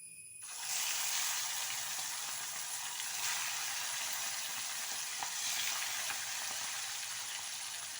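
Chicken marinated with asafoetida drops into hot oil in a pan and erupts into a sudden loud sizzle, then a steady hissing fry with small pops that continues close by, with no talk.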